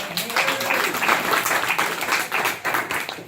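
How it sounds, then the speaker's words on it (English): Short round of applause from attendees at a city council meeting, steady dense clapping filling the room for about three seconds with no speech over it. "I think applause is appropriate for Mr. Hadley being here today"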